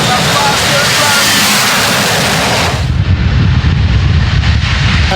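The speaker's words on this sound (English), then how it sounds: "then bang the afterburner on the green light" A jet dragster launches at a night race event with its afterburner lit, a loud, sustained full-range roar that drops into a deeper rumble as it pulls away.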